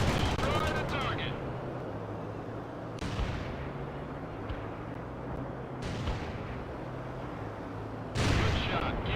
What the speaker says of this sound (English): Cluster bomb hit nothing but dirt